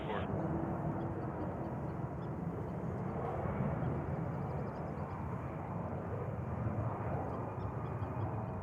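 Jet airliner taking off or landing at JFK airport, a steady broad engine roar that holds at a constant level throughout, near and loud, with no speech on top.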